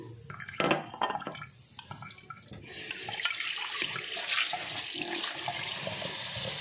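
Large sago pearls being washed under a running kitchen tap, with a few knocks of a bowl at first, then a steady close rush of flowing water.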